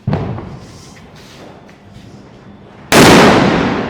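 A single heavy Diwali firecracker goes off near the end with a sudden loud, close bang that decays slowly, after quieter pops and rumbling earlier. Festival setting on a street.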